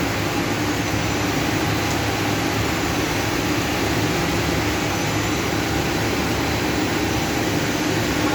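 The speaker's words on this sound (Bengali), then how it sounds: "এটা হচ্ছে ছোটো টেপ প্লান্ট।" A small tape plant machine in an industrial setting runs with a steady, dense broadband hum and whir, constant and unbroken throughout, with no voices.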